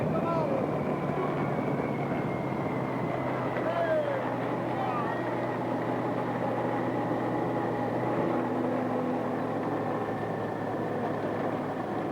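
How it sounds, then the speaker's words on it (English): A helicopter flies low over a cycling road race in Flanders, its steady rotor and engine drone filling the background while a commentator talks over it. "That's a helicopter that's blowing all the grass like that."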